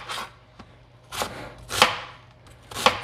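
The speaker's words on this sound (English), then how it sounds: "Okay, so I'm just dicing this up fairly small" A knife dices onion on a cutting board in a home kitchen, making four crisp, separate chops at an unhurried, uneven pace, close and clear against a quiet background, with no talking.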